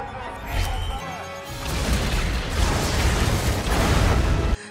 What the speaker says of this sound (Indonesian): ia tidak sengaja menggigit detonatornya sehingga membuat gedung itu meledak.